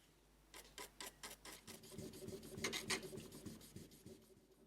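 A Lie-Nielsen block plane part being lapped on 2000 grit abrasive, quiet close rasping strokes in a steady rhythm, about a dozen back-and-forth rubs that grow denser and louder midway before easing off.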